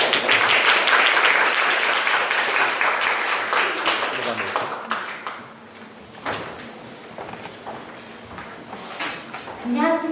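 An audience applauds a contestant at a Hangul Day Korean-language speaking contest for foreign students in Daegu, with loud, dense clapping that thins and fades after a few seconds, leaving scattered claps and room noise.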